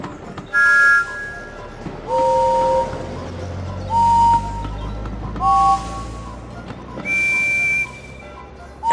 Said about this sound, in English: That's just like Henry's. It's exactly the right whistle for a green engine like me.